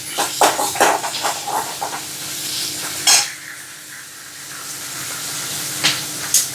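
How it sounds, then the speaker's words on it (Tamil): Onion, green chilli and curry leaves sauté in oil, a close sizzle with repeated scraping stirs of a spoon in the pan and a steady hiss between them. "பெரிய வெங்காயம் ஒரு பச்சை மிளகா கறிவேப்பில இதை எண்ணெயில் போட்டு நல்லா வதக்கிட்டு"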